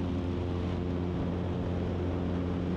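A small tailwheel airplane's engine and propeller drone steadily and loudly through a takeoff run on the runway, a continuous close hum with no talking.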